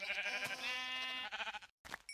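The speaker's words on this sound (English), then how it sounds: "Oh look, sheep." A sheep bleats in Minecraft, one long wavering blocky bleat followed by a shorter broken call, close and clear, with no talking.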